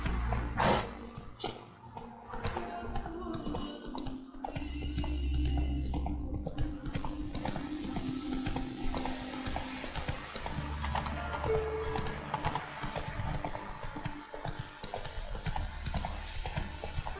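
Horse hooves clip-clop in a steady rhythm during The Witcher 3 gameplay, layered with game music and ambient sound, with faint talk here and there.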